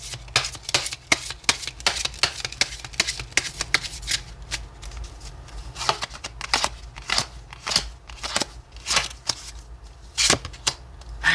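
Tarot cards are shuffled and drawn by hand, with quick, crisp riffles and slaps in dense irregular bursts, close and clear, with no talk over them.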